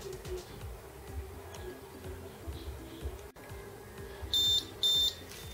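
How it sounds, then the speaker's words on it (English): A Fortress 800i 650VA UPS beeps in battery backup mode, two loud high-pitched electronic beeps in quick succession near the end, standing out over a low hum and faint background noise. "Nagbi-beep siya pagka naka-battery backup."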